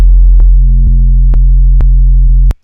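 A loud, sustained low synth tone with a slightly gritty, harmonic-rich edge, punctuated by a few evenly spaced clicks before it stops abruptly.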